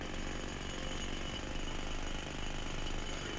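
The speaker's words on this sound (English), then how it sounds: "there's some guys working here with jackhammers and excavators" Jackhammers pound at a construction site with excavators nearby in Sniper Ghost Warrior 3, a continuous rapid rattling at a moderate distance, faint and unbroken, with no talking.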